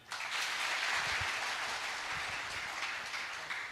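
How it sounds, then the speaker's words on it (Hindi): A crowd at a municipal event in Ratlam, Madhya Pradesh, bursts into applause on a call from the stage, a broad sustained wash of clapping that swells quickly and tapers slightly toward the end, fairly distant and with no talking. "एक बार तालियां।"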